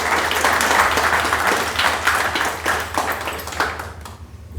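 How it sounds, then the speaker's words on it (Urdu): An audience at a farewell ceremony breaks into sustained, fairly close applause welcoming a guest, with dense clapping that holds steady for several seconds before thinning out near the end. "ایک بھرپور تالیوں سے جناب سہیل ثاقب صاحب کا استقبال کریں"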